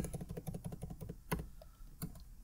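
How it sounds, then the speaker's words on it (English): Typing code on a computer keyboard in a text editor while setting up a LAMP stack on Fedora Linux: quick, close, rhythmic keystrokes that slow to a few isolated taps. "So then you're gonna type in the code."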